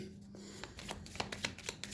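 Small Island tarot cards being shuffled and handled close up, with a quiet flurry of quick, crisp riffling taps and flicks.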